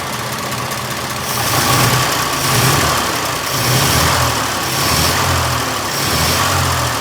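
An antique car engine idles slightly low with a loud, even, slightly lumpy chug that gently swells and eases in slow cycles, heard alone without talk.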